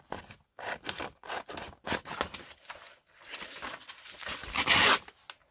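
Scissors snip through an old magazine page, giving a run of short crisp cuts with rustling paper, and one louder tearing swipe near the end.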